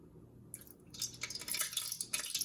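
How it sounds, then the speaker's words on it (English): Drops of water hit hot frying oil in a pan while testing it before frying chicken wings, bursting into loud crackling sizzles and spitting pops that start abruptly and continue close up. "When the splashing reduces, you know your oil is ready."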